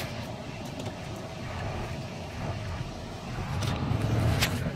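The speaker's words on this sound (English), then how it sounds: "Oh my god, why is so much traffic here?" Steady street traffic noise with a low rumble of passing cars, swelling slightly louder toward the end, with no talking.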